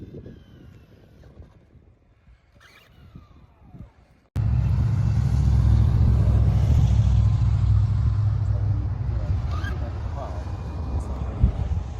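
An RC car drives under throttle outdoors: quiet ambience first, then an abrupt loud, sustained motor whine and rumble that runs steadily to the end.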